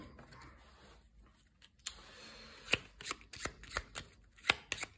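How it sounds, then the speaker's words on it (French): Cards for Tiny Epic Defenders are shuffled by hand, a run of crisp riffling bursts and soft slaps close by, irregular and quiet, following a faint lull. "On mélange, on mélange, on mélange, on mélange."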